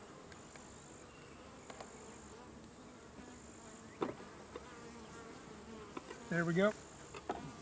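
Honeybees buzz steadily and faintly throughout a hive inspection, with a few clicks and knocks from tools on frames and a short burst of louder buzzing near the end; someone speaks briefly.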